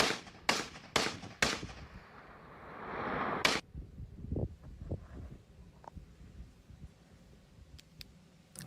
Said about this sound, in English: They are shooting at it.